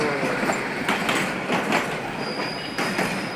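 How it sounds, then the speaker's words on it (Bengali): A train runs past on a railway line in Bangladesh, a loud, steady rumble of rolling carriages with rail clatter and occasional high wheel squeal, and no voices. "দেখো আরেকটা ট্রেন ওই পাশে যাচ্ছে।"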